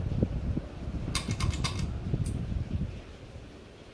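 A 52-inch Gulf Coast patio ceiling fan runs with a steady low whoosh of airflow, joined partway through by a few light ticking or rattling clicks, with no talking.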